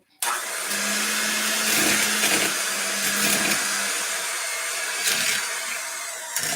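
An electric hand mixer whirs steadily, beating cream cheese with erythritol and sugar in a home kitchen, its motor droning continuously and close with slight surges as the beaters move through the mixture.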